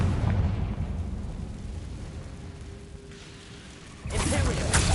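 Confringo blast spell in Hogwarts Legacy: a rumbling, broadband fiery burst rolls through the first seconds, eases off, then surges louder again near the end.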